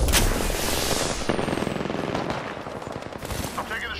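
Dense, loud video game gunfire in rapid automatic bursts, continuing throughout with a brief voice faintly mixed in.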